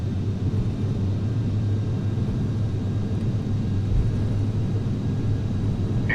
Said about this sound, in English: Throw the throttle down. Get up into the air.